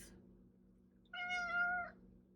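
A house cat gives one clear, drawn-out meow, close and fairly loud, against a quiet indoor background.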